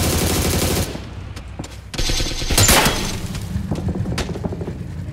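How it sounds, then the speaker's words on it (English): Heavy automatic gunfire and booming shots in PUBG on PC, loud bursts of rapid fire with sharp impacts running nearly the whole time and briefly thinning out before starting again. "He's getting shot at by his own buddy."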